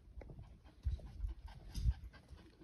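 A small dog pants in quick, soft, uneven breaths close by, with a faint whimper mixed in, in a quiet setting with no talking.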